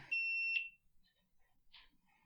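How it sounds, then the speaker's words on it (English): An alarm gives one sharp, high electronic beep lasting about half a second, up close, followed by a near-silent room with faint small noises. "It's beeping, Shane."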